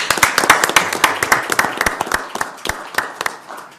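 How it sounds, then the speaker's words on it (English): Audience applause at a city council meeting, a dense run of many overlapping hand claps from a modest crowd, fairly loud and steady before tapering slightly toward the end. "let's give them a round of applause"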